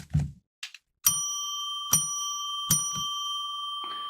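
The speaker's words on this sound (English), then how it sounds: "we're going to now ring that bell" A bell is struck three times at a steady pace, each strike a bright, clear ring with a long sustained tone, after a few soft knocks at the start.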